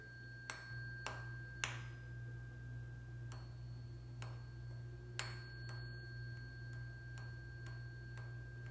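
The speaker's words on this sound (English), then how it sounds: "The only thing that's moving is the tuning fork." A vibrating tuning fork rings as a steady, pure tone held throughout. Sharp ticking taps recur at irregular intervals over a constant low hum.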